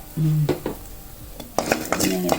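A metal spoon stirs cassava stir-fry made with coconut oil, coconut and asafoetida in a pan, making a ringing clank, then a quiet pause and a burst of close scraping and clattering against the pan.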